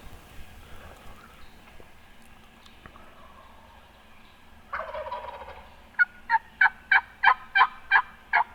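A wild gobbler on public land lets out a loud, rattling gobble from a distance, followed soon after by a quick, even run of about eight sharp calls standing out over a quiet woodland backdrop.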